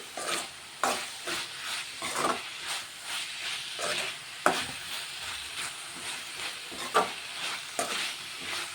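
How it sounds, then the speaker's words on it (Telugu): Tomato chutney with turmeric simmers in a pan, a soft continuous sizzle and bubbling hiss punctuated by repeated sharp scrapes of a spoon stirring roughly every second or so. "2 నిమిషాలు ఉడకబెట్టేస్తా దీన్ని."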